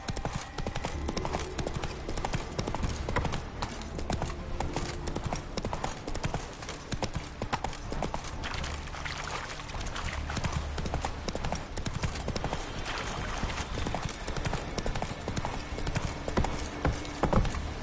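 Roach the horse galloping in The Witcher 3 video game, rapid rhythmic hoofbeats clopping continuously at close range, with faint voices and game sound underneath.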